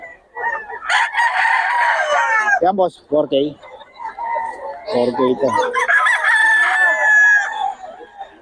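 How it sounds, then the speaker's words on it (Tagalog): Roosters crow repeatedly nearby, mixed with clucking, while someone talks over the birds, in a gamecock setting in Bocaue. "Yun yung mga manok mo."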